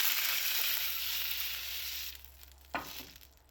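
Nigella seeds spluttering in a hot pan, a steady bright sizzle that fades slightly toward the end, with one sharp pop near the close and no voices.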